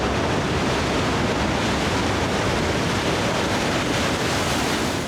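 Waves in an artificial surf pool break large enough to barrel, heard as a loud, continuous roar of churning surf with no pauses and no voices.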